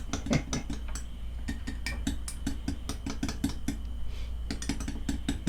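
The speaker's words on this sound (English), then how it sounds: "Let's give that a stir and see what it looks like." A spoon stirs a mixture in a hard container, giving a steady run of quick, close scraping clinks that repeat rhythmically throughout with no talking.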